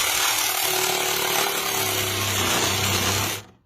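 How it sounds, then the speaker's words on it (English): A power saw cuts the contour out of a wooden shield for a winged Turkish horseman design, a loud continuous whine and buzz held close and steady before stopping abruptly at the end. "So you want to cut your contour out"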